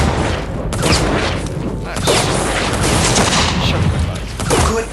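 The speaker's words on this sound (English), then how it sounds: "The primary weapon of the Biotech battle frame is the Bio Needler, which fires biotoxin-equipped mini-spikes at a high rate of speed." Rapid, dense firing of the Bio Needler shooting biotoxin mini-spikes in the Firefall game, a continuous loud crackling volley with booming impacts that runs for several seconds, with a voice talking underneath.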